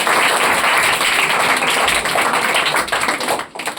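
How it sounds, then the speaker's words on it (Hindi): Loud, dense clapping from a crowd of people cheering on children at a school results event, sustained and steady before tapering off near the end. "चलिए सभी के लिए एक बार जोरदार ताली लगा दीजिए।"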